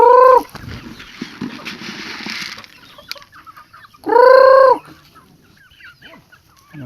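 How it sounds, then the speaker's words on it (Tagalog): Two loud bursts of chicken clucking on a small farm, one at the start and one midway, separated by quieter rustling and faint background bird sounds. "Ayan po mga manok."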